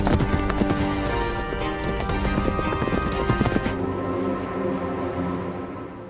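Horses' hooves clip-clop in a steady walking rhythm, fairly close, with a brief snort or whinny-like tone early on before the hoofbeats thin out.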